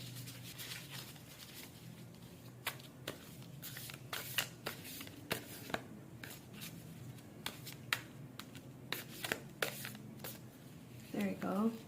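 Tarot cards being shuffled in short bursts of riffling and tapping, close and fairly quiet, with a few soft handling noises between.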